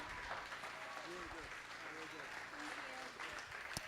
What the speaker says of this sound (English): put the hands together in a loving round of applause for best man, Mr. Kevin McLean